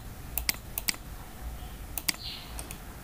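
Sharp, sparse mouse clicks at a computer while Java code is being edited, several quick single and double clicks close to the mic over a quiet room hiss.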